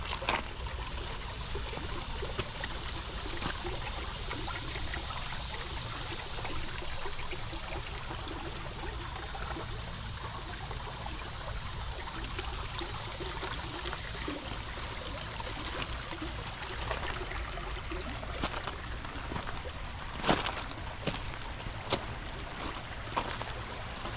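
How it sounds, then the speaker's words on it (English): Continuous gentle rushing and trickling of water over rocks, steady and fairly close, with no voices. "You can hear the water on the rocks."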